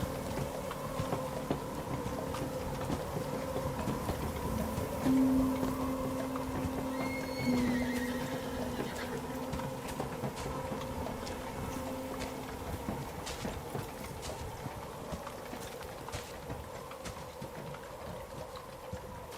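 Horse drawn along a rock-strewn quarry road with a cart, men walking alongside; a whinny rises around the middle over a steady low rumble and faint scattered hoof clatter, continuous and moderately distant, with no talk.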